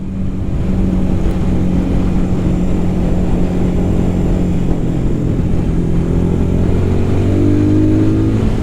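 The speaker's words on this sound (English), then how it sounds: "Rev the little 411, 24 horsepower." A Royal Enfield Scram 411 single-cylinder motorcycle engine, 24 horsepower, drones loud and close with a low steady throb that climbs gradually in pitch as it revs, heard alone with no talking.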